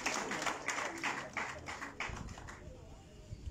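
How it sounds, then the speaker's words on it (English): Clapping from a gathered crowd at a National Unity Platform address in Karamoja, Uganda, a dense patter of hands for the first two seconds, then thinning into a fainter, rumbling murmur. "I would like us to clap for him yet again."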